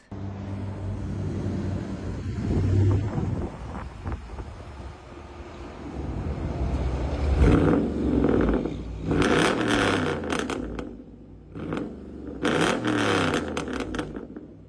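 A subscriber's loud car revving hard in several aggressive bursts with wind-buffeted, whirring engine roar that swells and drops, recorded up close with no talking.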